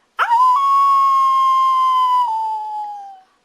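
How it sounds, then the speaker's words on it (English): A werewolf howls in the 2012 horror film The Collection, one long sustained wavering howl that rises sharply, holds steady and loud, then fades and drops off over about three seconds. "Werewolves like to howl."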